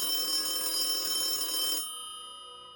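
A toy telephone rings with a bright, metallic, bell-like tone that sounds steadily, then cuts off abruptly and leaves a fading ring. It is heard alone, at a moderate level.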